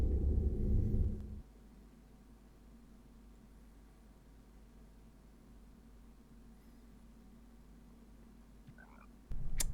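Frogs croak in the Harry Potter PS1 game, a continuous low croaking drone that stays steady for several seconds between louder game sounds at the start and end.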